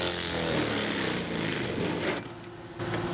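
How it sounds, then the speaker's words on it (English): A Mongo Pro Grade mulcher rated for 6-inch capacity chews through a roughly 6-inch tree in an overgrown farm ditch, a loud steady engine roar with grinding that dips briefly near the end, then picks back up. "Now this Mongo mulcher is rated at 6-inch capacity, and I would say this is a 6-inch tree."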